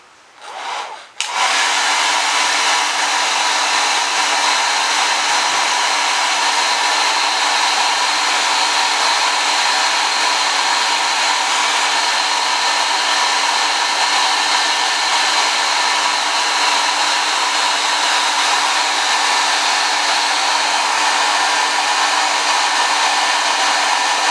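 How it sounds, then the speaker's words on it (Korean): Hair dryer blowing hot air to melt compound on a disassembled baseball glove, switching on after a brief bump and then holding a loud, steady whooshing whine close to the mic. "컴파운드를 다시 드라이기로 열을 가해줘서 녹인 다음에 다시 붙여줄 생각입니다."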